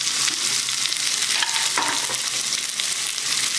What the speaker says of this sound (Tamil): ஒரு பெரிய வெங்காயம் பொடியாக கட் பண்ணி வச்சுருக்கிறேன், அதை சேர்த்துக்கிறேன்.